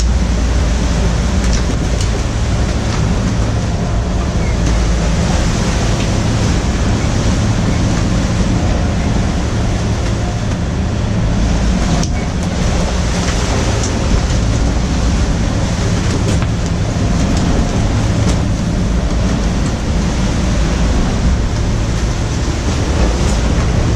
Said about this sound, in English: Sometimes the waves break between the hulls and smack on the